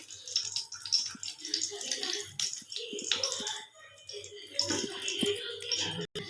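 Mustard oil poured into a heated pan to start a tempering for curd brinjal, giving a close, steady, watery sizzle and crackle with uneven bursts for several seconds.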